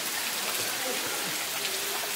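Cool water flows downward in Chimmony Wildlife Sanctuary, a steady close rush and splash with no break.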